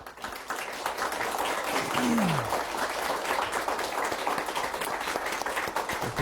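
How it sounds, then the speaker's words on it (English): A room full of people at a book talk applauds in a dense, even patter of clapping that runs throughout at moderate loudness. "Clap it up for yourself."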